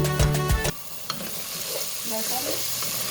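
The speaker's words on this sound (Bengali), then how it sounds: "আমি এখন পাতাকপি ভাজি করব" Cabbage frying in a pan: a loud burst of clattering and sizzle at the start settles into a steady, quieter hiss of frying that continues to the end.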